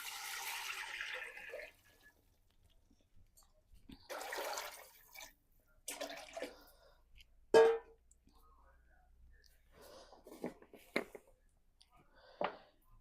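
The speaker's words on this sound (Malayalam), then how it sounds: "ഇനി ഇതിലേക്ക് വെള്ളം ഒഴിച്ചു കൊടുക്കാം" Water pours into a cooking pot of measured rice for beef biryani, in a few separate splashing bursts with quiet gaps between them and a voice speaking at times.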